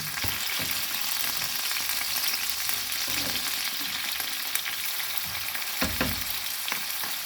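Tomatoes frying in hot cooking oil in a pan: a steady, close crackling sizzle that runs throughout, with a few louder pops and spits, and no voices.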